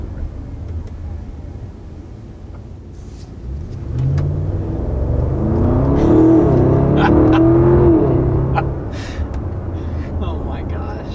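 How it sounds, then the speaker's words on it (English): A 2021 Audi SQ7 with a V8 engine accelerating hard, a deep engine roar swelling and rising in pitch midway before easing off, heard from inside the cabin, with speech over part of it. "And let's talk about that sound too. It sounds excellent. Just having the V8"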